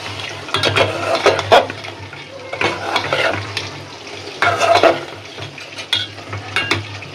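Amra (hog plum) for a Barishal-style hog plum and prawn curry being stir-fried in a pan, a steady sizzle with repeated scraping strokes of a spatula in bursts, close and fairly loud, with no talking.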